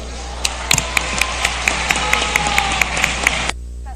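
Brisk applause from members of the Peruvian congress in session, a dense, steady patter of many hands clapping with a few sharper claps on top, lasting about three and a half seconds and then stopping abruptly.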